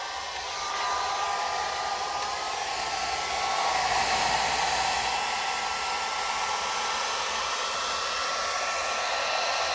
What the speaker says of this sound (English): I'm going to use the hairdryer. I'm going to use my big one.